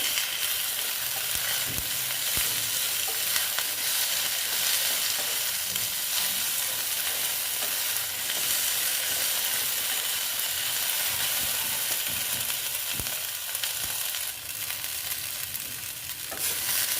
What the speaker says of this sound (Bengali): ঢেঁড়সগুলো একটু ভেজে নিচ্ছি।